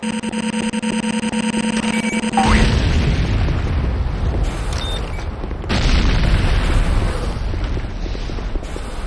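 Explosions hit a Tiberium Refinery in the game Renegade, starting with a steady mechanical hum, then a sudden loud booming blast with rumbling debris, and a second heavy boom partway through.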